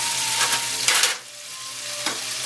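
Garlic being lifted out of a sizzling pan while stuffed squid is being cooked, with steady frying crackle, a few scraping stirs and utensil clinks close by, and no talk.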